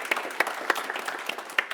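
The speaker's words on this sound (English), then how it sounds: "Big applause." A sparse handful of people at a panel discussion clap in uneven, distinct slaps, a thin smattering rather than a full ovation.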